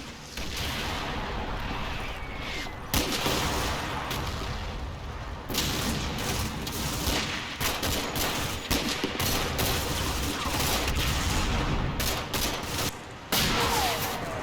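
Gunfire and artillery in a Combat Mission Kampfgruppe Peiper battle at Stoumont, heavy fusillades of rapid shots and booms in bursts with brief lulls, dense and continuous.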